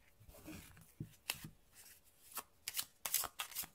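Tarot cards are shuffled by hand for a reading, making soft riffling and sliding with crisp taps and snaps that come quicker toward the end. The sound is close and quiet, with no one talking.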